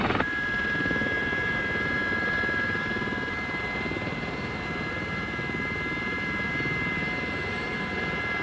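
A trainee army helicopter hovers while attempting a landing, its rotor and turbine making a loud, constant whine and thrum close by, with no break in the sound.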